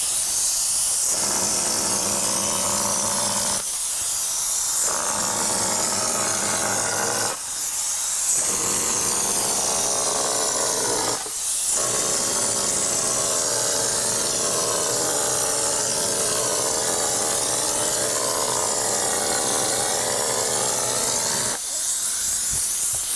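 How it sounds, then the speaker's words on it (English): Casting blend sprayed into a fireplace cube mold gives a loud, steady hiss, broken by a few short pauses before spraying resumes, with no talk. "I've sprayed the casting blend into the form."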